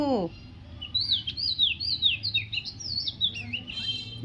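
A bird chirps a rapid string of bright, rising and falling whistles, fairly close, over a low background hum.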